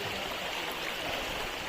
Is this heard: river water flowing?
yes